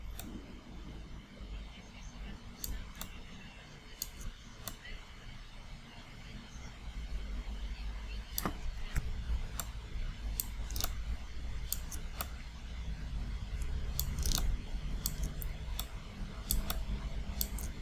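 Computer mouse clicks while a selection is drawn in Photoshop, scattered sharp ticks at irregular intervals over a steady low room hum, faint and close.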